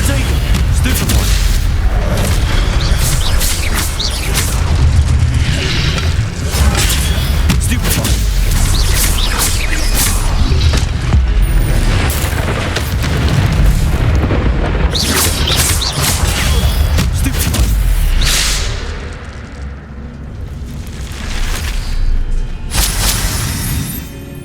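Spell-casting effects in Hogwarts Legacy play on PC as dense, loud booms, crashes and magical bursts over a game soundtrack, easing briefly near the end before building again, with a player's voice shouting over the action.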